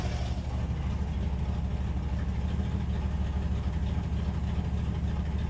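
Small engine running steadily and loud throughout as an adjustment screw is turned up, a continuous droning hum with RPM rising slightly and no talking.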